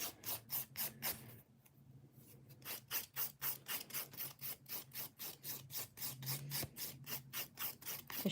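Nails filed with a rasping file, a brisk run of regular back-and-forth strokes, close and clear, with one short pause before the strokes resume at the same steady rhythm.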